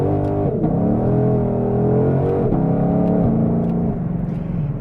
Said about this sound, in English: short shifting there just to stay within the law, but damn, it picks up quick